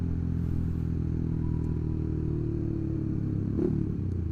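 Steady idling rumble from a 2016 Suzuki Satria FU fuel-injected motorcycle fitted with an open looper exhaust, heard close and continuous, with a brief rev or clatter near the end.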